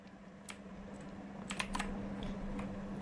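Fingers tap out scattered keystrokes on a mechanical computer keyboard, a few sharp clicks close up over a low steady hum, with no talking.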